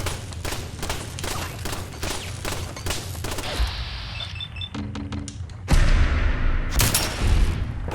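Rapid gunfire from the Fallout 4 video game, a string of sharp shots in quick bursts followed by heavier, louder blasts toward the end over mechanical clatter, with no talk.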